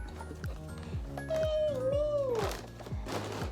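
A single drawn-out cat meow, slightly muffled from outside a bedroom door, over a steady rhythmic thumping in the background.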